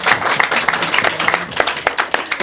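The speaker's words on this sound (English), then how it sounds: "Applause." An audience at a film critics' award ceremony applauds with a brisk, fairly close run of overlapping hand claps that continues steadily, with no voices over it.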